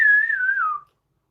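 A person whistling in imitation of an eerie sound: one clear, sustained whistle that wavers slightly, then slides downward and cuts off, leaving silence.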